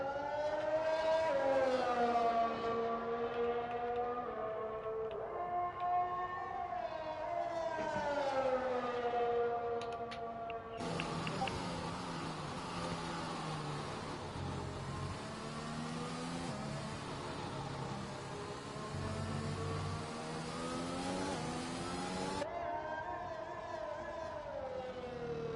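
A McLaren race car engine in a racing video game at the Brazil round whines continuously, its pitch rising and falling with gear changes and throttle, loud and steady from start to finish.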